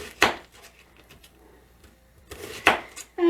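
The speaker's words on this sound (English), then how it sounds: "I'm going to slice up an onion, and I do one whole onion" A knife slicing an onion on a board, two sharp, close cuts about two seconds apart with faint scraping and handling noises between them.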